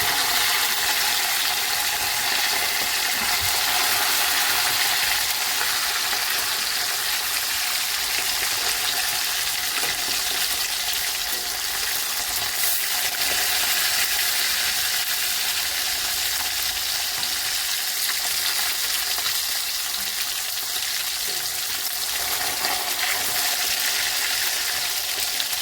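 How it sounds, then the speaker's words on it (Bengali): Fish frying in a pan, turned over partway, with a loud continuous hissing sizzle filling the whole stretch, close and steady with no talking. "তো আবার মাছটা আর একটু উল্টে দেবো"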